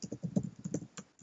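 Brief burst of typing on a computer keyboard, with quick, soft key clicks in an uneven rhythm, quiet and close with no voices.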